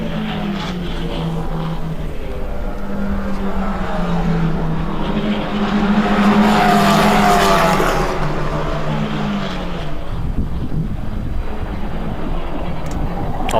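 Formula 4 race cars at BalatonPark speeding through a chicane, a continuous engine drone that swells in the middle and fades, heard from a distance without talk.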